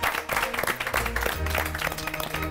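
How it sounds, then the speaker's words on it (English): Warm audience applause for cooking contestants on a heritage food challenge show, steady clapping with some background music or voices blended in throughout. "you all deserve a warm round of applause"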